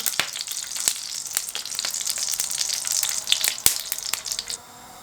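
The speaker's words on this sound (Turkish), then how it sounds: "Şöyle kuyruk yağını atıyorum içine." Tail fat hits a hot pan for kavurma and sizzles loudly and up close, with sharp crackling pops throughout before the sound drops away near the end, with no speech.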